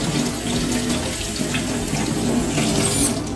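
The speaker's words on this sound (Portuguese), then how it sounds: "vou jogar água e mostro pra vocês como tá ficando." Water pours steadily from a tap over a freshly scrubbed item, a loud continuous splashing rush close by that carries on without a break.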